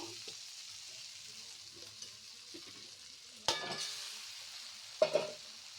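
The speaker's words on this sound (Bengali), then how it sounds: "একটু নাড়াচাড়া করে চাউমিনটা দিয়ে দিব।" Chow mein noodles being stirred and tossed in a frying pan, with a steady low sizzle and two sharp scraping strokes of the utensil near the end, close and clear.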